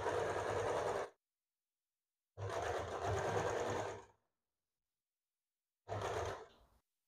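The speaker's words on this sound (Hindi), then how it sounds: "यहाँ पे बैक और फ्रंट का बिल्कुल आर्म होल से हमें सिलाई करना है।" An electric sewing machine stitches a blouse side seam in three separate runs: two longer steady whirring bursts and one short final burst, with silence between them.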